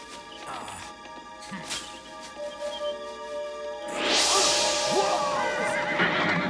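Clattering hooves and scuffling build into a loud, shrill horse whinny that rises and trails off, with commotion and bangs around it, in a cartoon episode.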